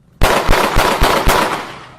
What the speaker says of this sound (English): 5 gunshots.